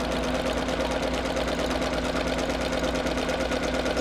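Sewing machine running slowly and steadily as it stitches a seam in fabric, a close, continuous mechanical hum with a fine rapid needle rhythm and no talking.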